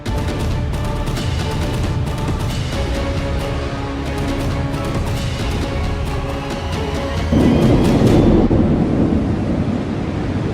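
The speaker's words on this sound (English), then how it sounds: "This is a beach in the US on a gloomy day, where a lightning strike scared us." Thunder rumbles loud and broad across a beach on a gloomy day after a lightning strike, with crackling bursts early on and a swelling low roar building near the end, no voices.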